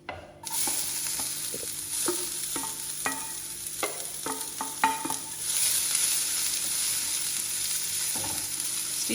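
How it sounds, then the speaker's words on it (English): Onion and garlic fry in a small pan, a steady close sizzle with scattered stirring clinks and scrapes of a utensil against the pan. "next into the pan will be the onion and garlic."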